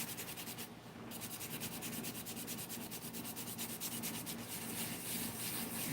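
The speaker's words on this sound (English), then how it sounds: "It's a sanding sponge." Steady scratchy rubbing of a sanding sponge, close by and continuous, with a rhythmic back-and-forth rasp throughout.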